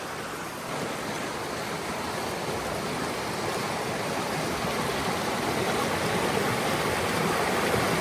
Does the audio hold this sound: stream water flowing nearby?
yes